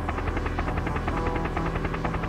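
The Chopper One helicopter in a pinball game, its rotor beating in a fast, steady, loud pulse over an electronic machine drone, with no voices.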